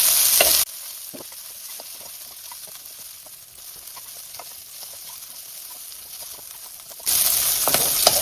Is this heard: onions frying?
yes